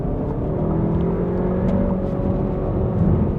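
An Audi Q3 SUV in dynamic mode accelerates, heard from inside as a loud, steady engine drone and road roar with a rising tonal whine.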